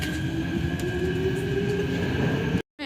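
A Delhi metro train at a busy station, running with a steady rolling rumble and a sustained electric whine. It cuts off abruptly near the end.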